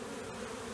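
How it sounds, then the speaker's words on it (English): Bees buzz steadily around a wooden box holding leftover honeycomb, a close, continuous droning hum with no break across the short moment. "But there were bees in my box."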